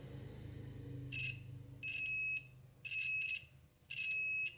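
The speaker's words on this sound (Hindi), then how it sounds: "बजर मोड है ये।" A Sunshine DT9205E budget digital multimeter in buzzer mode gives four shrill electronic beeps, the first brief and the rest longer, with short silent gaps between them against a quiet background.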